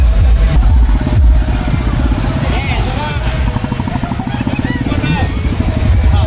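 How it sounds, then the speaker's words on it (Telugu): Motorcycles in a crowded political bike rally for a Congress party candidate, a dense rumble of engines near and far, with clatter and constant crowd voices over it. "కాంగ్రెస్ పార్టీ ఎమ్మెల్యే అభ్యర్థి అదీప్ రాజు బైక్ ర్యాలీ విజయోత్సవాన్ని తలపించుచు కార్యకర్తలు నిర్వహించారు."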